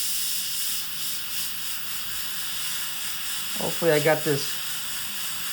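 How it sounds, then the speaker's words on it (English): A tiny airbrush sprays paint onto a Trumpeter 1/32-scale F-105G model kit, giving a steady, soft hiss that runs throughout, with a brief spoken remark near the end. "Now, I got my tiny airbrush, so I don't have to mask off everything."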